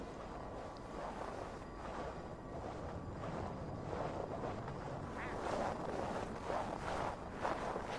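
Gusting wind ahead of a storm in Assassin's Creed Valhalla, set in Norway, blows as a steady broadband rush with swelling gusts that build slightly louder toward the end, with no talk.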